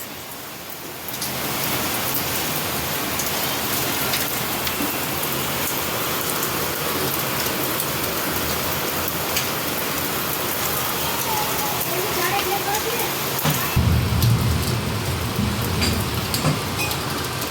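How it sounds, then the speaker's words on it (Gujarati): Heavy monsoon rain pours down in a dense, continuous roar throughout. It swells slightly louder toward the end. "વરસાદ તો હજી ચાલુ જ છે. સારો એવો ચાલુ જ છે."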